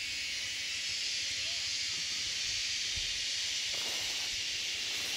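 Hot oil hisses and sizzles while food fries in a pan, a steady bright crackling hiss running throughout at close range, with faint background sounds underneath.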